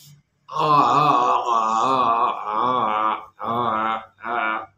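A voice sings a sustained open "aah" in several long held tones, each fading out, with short breaths between the later ones.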